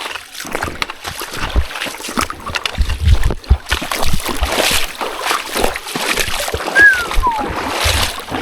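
Feet splashing through shallow water and mud on a rugged Ohio hiking trail, a run of wet sloshing steps that rises and falls with stride, close by with outdoor ambience.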